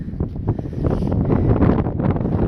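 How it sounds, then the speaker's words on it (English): Strong wind on the Arizona Trail buffeting the microphone, a continuous low roaring rumble with gusty surges and no voices. "it's going to be windy"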